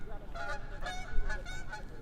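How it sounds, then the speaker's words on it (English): Geese honking as they fly overhead on a sunny campus, a quick string of repeated nasal honks, fairly close and loud, over a low outdoor rumble. "Some geese fly overhead."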